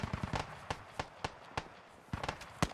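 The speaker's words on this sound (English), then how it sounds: "Enemy BTR shooting at us from west somewhere." Enemy BTR gunfire in a military video game, distant sharp cracking shots in irregular bursts and single reports, fairly faint with quiet gaps between them.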